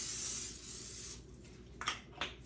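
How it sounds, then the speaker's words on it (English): A short hiss of cooking spray onto a baking dish for enchurritos, a faint steady spray lasting about a second, followed by a couple of quick softer bursts, with no talk. "We are going to spray our baking dish so they won't get stick in the baking"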